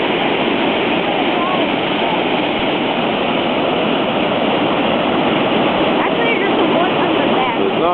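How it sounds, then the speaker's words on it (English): A creek waterfall swollen after a week of heavy rain roars in a dense, steady rush, loud and close, with unbroken white-noise water sound throughout. "Just see the big waterfall up there."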